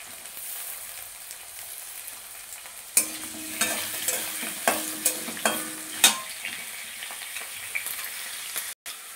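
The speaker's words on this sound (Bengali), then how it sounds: "পেঁয়াজ আলুটা আমার ভাজা ভাজা হয়ে গেছে।" Sliced potatoes and onion fry in a wok, a steady sizzle punctuated by half a dozen sharp stirring scrapes and clanks at regular intervals, close and clear with no voices.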